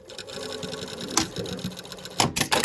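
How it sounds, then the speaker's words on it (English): A sewing machine runs in steady bursts, back-stitching the edges of a hooded towel, with a close mechanical whirr and clatter that pauses and restarts, no talking. "Back stitch my edges here"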